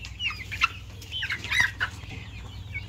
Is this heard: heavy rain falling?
no